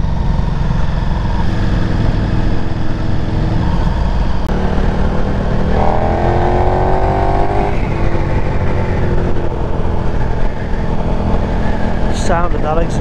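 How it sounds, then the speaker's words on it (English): A 1300cc V-twin motorcycle's exhaust rumbles loudly and continuously, with a rising rev around the middle, alongside wind and road noise. "Sound of that exhaust."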